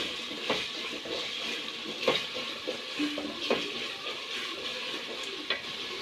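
Rice stir-fried into oil-released cooked beef for bhuna khichuri gives a steady close sizzle in the pan, with a few sharper scraping stirs of a spoon scattered through.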